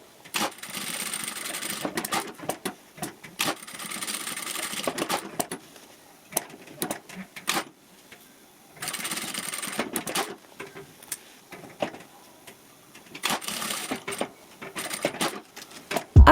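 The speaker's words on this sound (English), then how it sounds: "Sew along those pinned places to fix the handle." A sewing machine stitches along pinned spots to attach a looped handle on a fabric vanity bag, running in several separate bursts of rapid mechanical whirring with short quiet pauses between them, close and clear with no talk.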